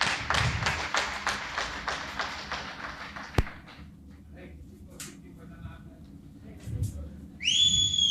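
Near the end, an audience member at a neurotherapy convention gives a short, shrill whistle. It follows a run of rhythmic clapping, a sharp thud and some murmuring voices in a large hall.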